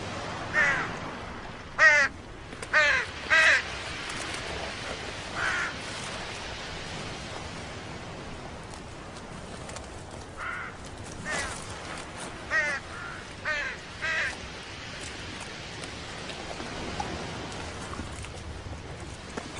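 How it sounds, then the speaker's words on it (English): Crows caw in a Russian forest in broad daylight. Scattered bursts of harsh calls come at moderate distance over a steady rain-like hiss of background noise. "Heckling crows call unwanted attention."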